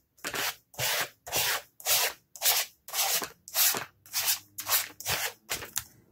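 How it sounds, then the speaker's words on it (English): A paint scraper drags blue paint across a surface in about eleven even, rhythmic strokes, each a distinct scraping rub separated by brief pauses, close and fairly loud with no talk over it. "And I'm going to go in with the scraper."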